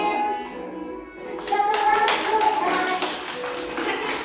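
Children clapping along to a greeting song in a classroom, a burst of quick rhythmic hand claps starting partway through and continuing to the end, with kids' voices mixed in.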